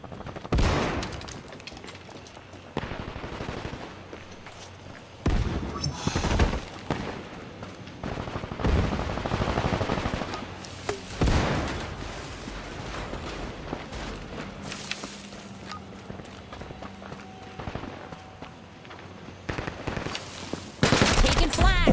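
Bursts of live-round gunfire in the video game Combat Champions, several separate volleys of rapid shots at moderate loudness spread across the scene, with pauses between them and occasional voices.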